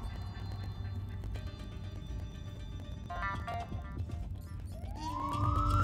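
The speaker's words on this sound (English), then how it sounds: "toilet flushing and police sirens." Police siren from the Leisure Suit Larry video game, a rising wail that builds loud at the end over a low ambient game background, with no talking.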